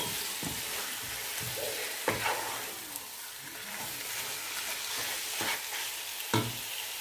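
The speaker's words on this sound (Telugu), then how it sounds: "ఇలా కలుపుకున్నాం కదా మటన్ని మంచిగా. దీన్ని ఇప్పుడు లిడ్ పెట్టుకొని మూత పెట్టుకొని కాసేపు ఫ్రై అవ్వనివ్వాలి." Mutton being stirred and fried in a pan for pulao, a low steady sizzle with a handful of soft scraping strokes from the spoon, close and unaccompanied by talk.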